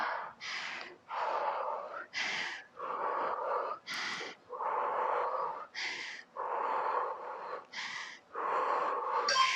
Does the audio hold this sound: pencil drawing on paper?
no